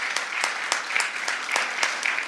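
Applause at a court luncheon honoring scholarship recipients: a moderate crowd claps steadily in a brief, even burst of overlapping hand claps with no talk over it.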